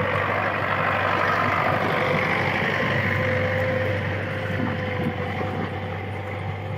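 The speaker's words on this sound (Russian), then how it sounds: "Под рокот трактора еще одна лесная поляна превращается в пашню." A tractor plows a forest clearing into farmland, its engine a steady, loud, low rumble with wind noise throughout and no voices.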